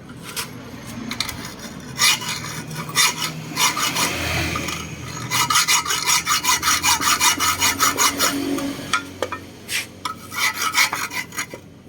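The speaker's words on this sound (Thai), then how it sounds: "ตรงนี้นะครับใช้เลื่อยตัดนะครับผม" Rapid back-and-forth rasping of a hand saw cutting through a motorcycle exhaust pipe on a Honda Wave 110i, in steady bursts of strokes with brief pauses between them.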